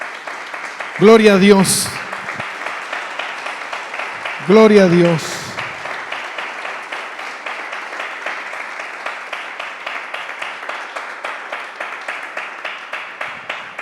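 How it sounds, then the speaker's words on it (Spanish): A church congregation claps steadily through a Spanish-language sermon, a dense patter of hands running the whole way while a voice twice calls out in praise over it. "Dale un aplauso al Señor."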